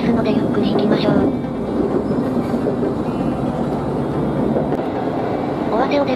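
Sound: local train running along the Kii Peninsula coast

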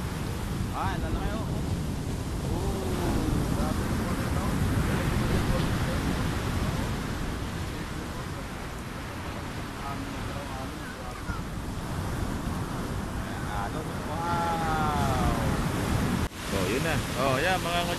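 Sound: big ocean waves in rough weather at sea

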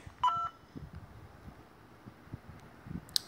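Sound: phone dialing in the video game Whack your Computer

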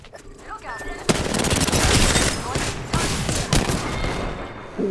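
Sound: gunfire in the video game Apex Legends

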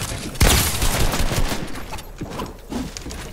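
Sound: shotgun gunfire in a video game

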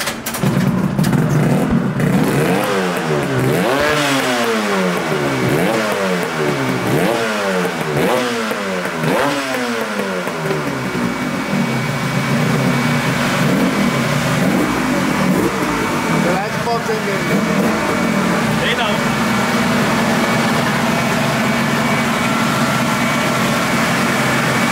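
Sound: Yamaha RD 350 motorcycle engine revving on a dynamometer, pops and bangs

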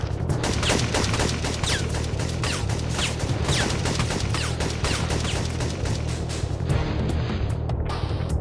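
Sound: sniper gunfire in the video game Syphon Filter 2

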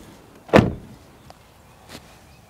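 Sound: car door being shut

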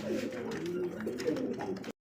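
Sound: pigeons cooing

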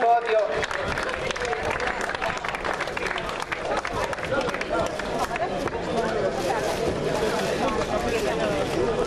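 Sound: applause for the three podium athletes

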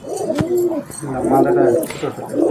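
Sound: pigeons cooing

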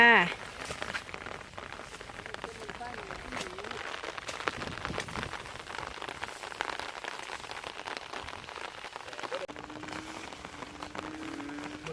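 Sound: rain falling

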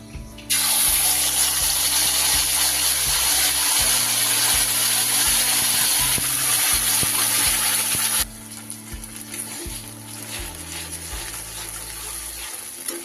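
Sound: spice paste added to hot oil, sizzling

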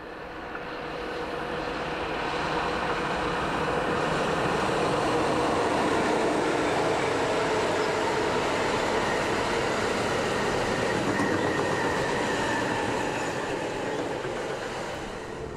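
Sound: electric locomotive passing

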